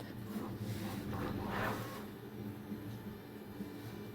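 A 3D printer runs in a print workshop, a steady mechanical hum with soft whirring motor tones, continuous and moderately close, with no one speaking.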